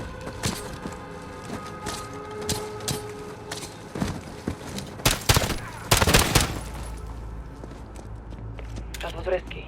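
Gunfire in the video game Call of Duty Modern Warfare, with loud scattered shots and rapid bursts mixed with footsteps, under game dialogue.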